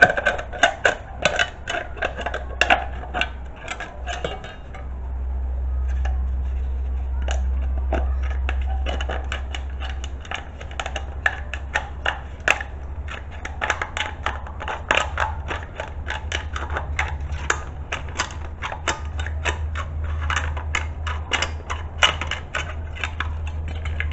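A metal can being cut open, a rapid run of sharp ticking snips and crunches that continues steadily throughout, close up over a low background rumble.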